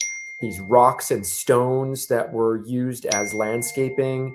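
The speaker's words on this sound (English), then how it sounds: "You may hear my phone blowing up right now." Mobile phone notification chimes: a couple of brief, high, thin pings ringing out under someone talking close up.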